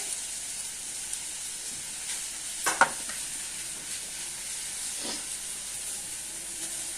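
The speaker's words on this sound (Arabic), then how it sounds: "طبعا انا سايبه السمك بيتشوي" Fish grilling in a pan makes a soft, steady sizzle, with a couple of brief clinks or stirring knocks near the middle and no voices.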